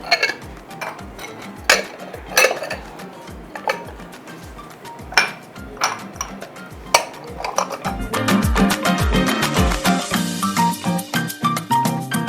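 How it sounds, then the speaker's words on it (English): Dishes and pans are washed up with Morning Fresh, with repeated clinks and clatters of crockery and cutlery, then a busier stretch of running water and rattling pots, close by with no talk. "let's tidy up the place and wash with our morning fresh"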